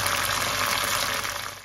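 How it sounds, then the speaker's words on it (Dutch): Mackerel (sardine) fish frying in a pan with tomato sauce, giving a dense, even sizzle and bubbling close up that fades slightly at the end. "En dan ga ik mijn vis even goed bakken."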